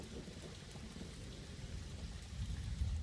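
Heavy rain falls in a steady, dense patter with a low rumble like distant thunder swelling toward the end, moderately loud and without speech.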